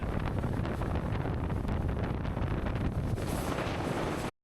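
A fast-moving boat ride, with heavy wind buffeting the microphone and a constant roaring rush of engine and water that cuts off abruptly at the end.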